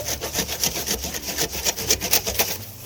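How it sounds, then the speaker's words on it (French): A hand saw cuts branches off a Christmas tree trunk, with quick, steady back-and-forth rasping strokes repeating close up and fairly loud, with no talking over them. "Je le fais avec une scie à la main au début"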